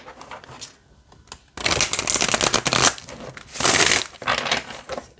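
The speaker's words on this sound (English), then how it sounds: "I'll show you how it shuffles." A tarot card deck being shuffled by hand, two loud, crisp riffling bursts close up, separated by a brief lull, with soft card handling before them.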